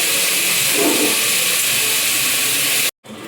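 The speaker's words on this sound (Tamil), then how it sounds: "வெங்காயம் தக்காளி எல்லாம் போட்டு வதக்கணும் லைட்டாக உப்பு போட்டுக்கலாம்" Onions and tomatoes with green chilli, mint and a little salt sauté in a pan, giving a loud, steady hiss that cuts out briefly near the end.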